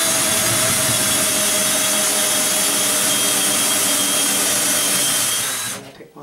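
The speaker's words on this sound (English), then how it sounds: "Then I just take my drill." A loud continuous whine of a power drill cutting into drywall, grinding steadily up close for several seconds, then cutting off abruptly.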